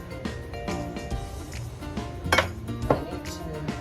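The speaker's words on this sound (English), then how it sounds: "I'm going to put this mixture in my pot, in my round stone" Creamy chicken casserole mixture spooned into a round stoneware pot: soft scraping with a few sharper clinks of utensil on ceramic, two of them standing out near the end, fairly close with no talking.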